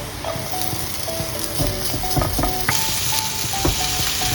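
Garlic and ginger sauté in a pan for chicken curry, a continuous sizzle broken by repeated stirring scrapes and clicks, close and steady, with no talking.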